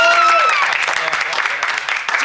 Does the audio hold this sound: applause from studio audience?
yes